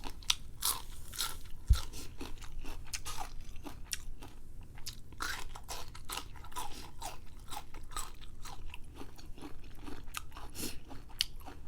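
Crunchy chewing of som tam papaya salad close to the microphone, a rapid irregular run of crisp bites and crackles that continues throughout, fairly quiet and without talk.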